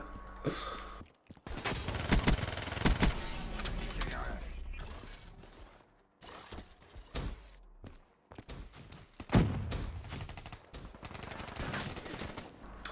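The Vesper submachine gun firing in Black Ops 3 multiplayer, rapid bursts of automatic fire at close range, broken by short pauses, with mechanical clatter, footsteps and other game noise around it.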